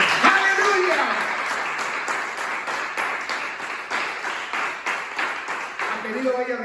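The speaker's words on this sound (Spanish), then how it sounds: "¿Le pueden dar un aplauso a Jesucristo?" A church congregation applauds in a sustained, even round, with a voice briefly heard at the start and again near the end over the clapping.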